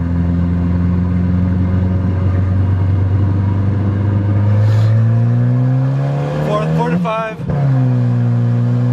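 A drift car engine drones steadily and then climbs in pitch as it revs through a second gear pull, ending with a sharp burst and brief dip before the revs settle, loud and close to the microphone.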